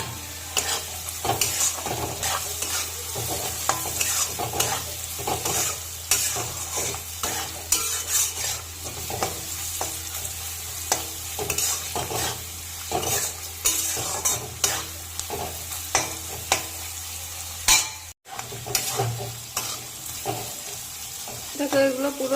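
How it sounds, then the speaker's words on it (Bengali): Ground cumin, chilli, turmeric and salt fry with other ingredients in a pan for chicken chow mein, sizzling steadily under frequent scraping stirs and clinks of a utensil, close up and without any talking. "ভালো করে ভেজে নেব এগুলো।"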